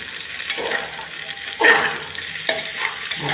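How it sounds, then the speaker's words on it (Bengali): Papaya and carrot pieces fry in oil for a mutton stew, a close crackling sizzle with stirring scrapes and one louder hiss as the vegetables are turned. "এবার আমি এখানে আর পেঁপে যে গাজরগুলো আছে, এই দুটো সবজি আমি এতে দিয়ে দিচ্ছি।"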